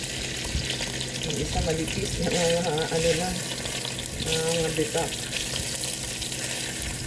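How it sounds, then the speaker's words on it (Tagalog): Ham frying in a pan for a heavy breakfast, a steady sizzle running under someone speaking Filipino throughout. "Try po natin i-prito ang ating ham."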